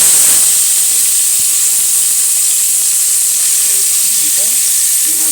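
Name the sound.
meal maker soya chunks frying in pan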